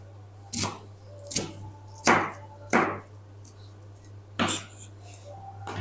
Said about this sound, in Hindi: पालक को आप थोड़ा सा मोटा भी काट लें तो इसका कोई मसला नहीं